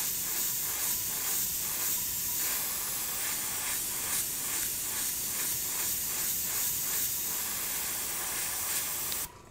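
An airbrush hisses pink paint onto a Nike Air Force 1 shoe behind the swoosh, a steady close spray with regular pulsing surges that cuts off abruptly at the end.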